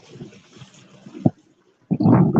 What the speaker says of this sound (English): the waves are pulling my prop out of the water